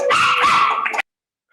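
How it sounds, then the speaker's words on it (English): A dog at a graduation ceremony for non-traditional students gives a single loud, close, drawn-out bark or yelp lasting about a second, then silence. "I love the dog. The dog just knows what's going on."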